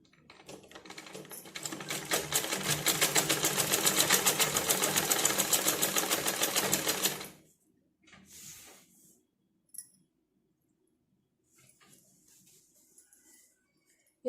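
A sewing machine stitches the end of a saree in a steady fast run for about seven seconds, close and clear, then stops, leaving a few faint handling rustles and clicks.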